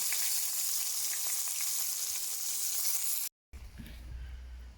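Fish fries in a pan, a steady bright sizzle close by with small crackles, cut briefly by a gap before a quieter stretch.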